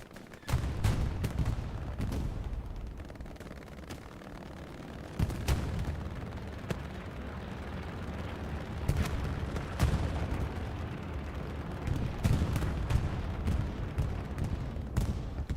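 Machine gun fire rattles through a Hell Let Loose match in repeated sharp bursts and scattered single shots, loud and close, over a constant low rumble of distant battle.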